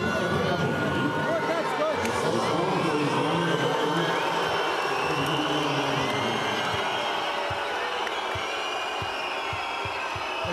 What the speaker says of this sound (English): the crowd disagreeing vociferously with that